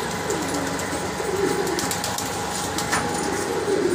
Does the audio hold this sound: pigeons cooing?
yes